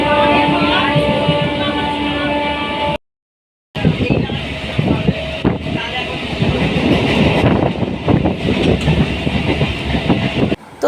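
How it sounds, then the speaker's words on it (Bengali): A nearly empty local train runs along the rails with a loud, steady rumble and rhythmic clatter, cut by a brief gap, with faint voices now and then. "আর ট্রেন কিন্তু ছেড়ে দিয়েছে"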